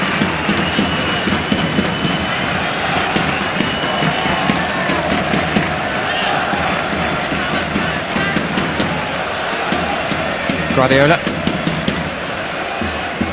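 Steady roar of a football stadium crowd at a Barcelona versus Liverpool UEFA Cup match, a dense, continuous wash of noise with someone commentator talking over it throughout.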